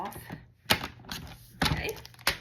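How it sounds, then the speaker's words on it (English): Scissors or a blade cut through cardstock while a Stampin' Up masculine card is assembled, giving three sharp broadband snips or thunks spaced across a couple of seconds, close and fairly loud against soft background speech. "Let me cut this where it's a straight line."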